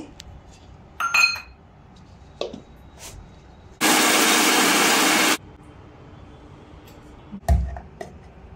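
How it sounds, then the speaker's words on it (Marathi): Mixer grinder grinding corn kernels, a loud, even roar that runs alone for about a second and a half between faint clinks and knocks of kitchen handling. "आता मी मिक्सर मध्ये मक्का टाकत आहे, याला वाटून घेते।"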